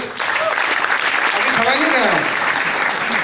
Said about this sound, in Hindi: एक ताली उनसे उनके लिए बजना चाहिए।